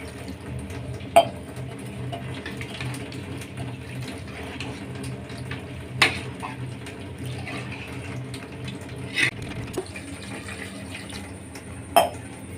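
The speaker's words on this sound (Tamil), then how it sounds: "தண்ணி ஊற்றிக்கணும்." Water runs steadily into a pot of country chicken curry gravy in a home kitchen, a continuous close pouring wash with a few sharp metallic clinks of the vessel, no talking.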